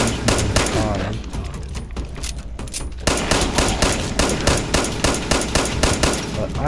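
Loud, rapid automatic gunfire in the video game Fallout 76, with sustained bursts of repeated shots that pause briefly near the middle and then resume.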